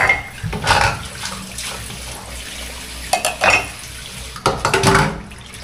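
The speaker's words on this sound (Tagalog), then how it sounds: "Hugasan lang natin tong ibang napagkainan pa." Dishes being washed under running water in a home kitchen: a wash of flowing water broken by several clinks and clatters of plates and utensils.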